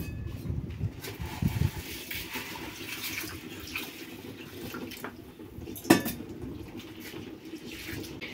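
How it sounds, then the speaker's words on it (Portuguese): Rice being washed by hand in a pot of cistern water at a farmhouse kitchen, with close sloshing, swirling water and grains scraping and clinking against the pot, plus one sharper knock partway through. "Vou lavar aqui o arroz."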